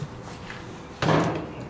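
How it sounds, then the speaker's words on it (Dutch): A door in a flooded recreation centre is tried and stays shut, giving a single short rattling thud of the handle and door against its frame, fairly close, after a quiet stretch. "Hier is als het goed is ergens een deur en misschien is die wel open."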